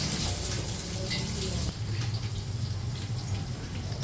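Onion hits hot oil in a pan, giving a loud burst of crackling sizzle that settles into a steady hiss, with a voice briefly heard over it.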